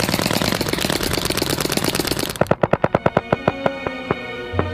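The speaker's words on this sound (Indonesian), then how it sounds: "Jimmy, kami punya pistol paintball dan bakal nembakin nisan kamu." Paintball guns firing at a gravestone: a dense burst of rapid shots, then a clear string of about a dozen sharp, evenly spaced pops that slow and fade at the end, no talking.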